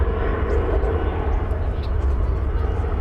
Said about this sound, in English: It is a Cessna Citation Latitude on its way to Palm Springs in California.